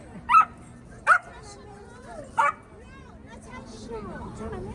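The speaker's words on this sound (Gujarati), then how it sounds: "અહીંયા જો ડોગીની ફાઇટ થઈ ગઈ છે." Dogs scuffle in a street fight, giving three sharp, loud barks and yelps spaced about a second apart, then whining and whimpering as faint background chatter continues.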